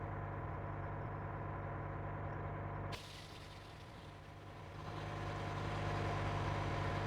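A bus engine runs in steady low idle, its even rumble shifting briefly in tone partway through before settling back into a constant drone.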